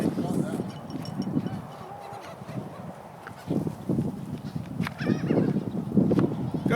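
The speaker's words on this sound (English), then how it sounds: "we get seagulls all the time" Seagulls gather for bread in a front yard near the beach, giving repeated harsh squawks and honking calls that overlap in bursts, nearby and fairly loud, with people talking among them.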